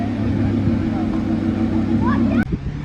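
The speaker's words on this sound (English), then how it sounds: "Mark 3 MX-5 is also leaving." A Mazda MX-5 Mark 3 pulls away from a car meet, its engine a steady low drone close by with a brief dip near the end, while people talk nearby.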